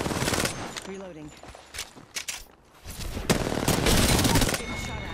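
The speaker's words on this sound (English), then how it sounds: "Getting shot at." Automatic gunfire in a squad-based battle royale shooter, loud close bursts of shooting at the start and again in a sustained volley toward the end, with game voice cues between.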